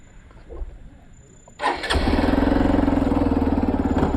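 A motorcycle engine cranks and catches, then settles into a steady, close idle with a rhythmic putter, preceded by a few quiet seconds, at night after light rain.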